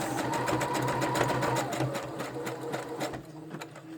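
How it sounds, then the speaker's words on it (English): A sewing machine stitching around fabric flower petals runs continuously nearby, a loud steady mechanical whir with rapid needle clatter, slowing slightly toward the end, with no voices. "And then I just start stitching all around it, all around the petals"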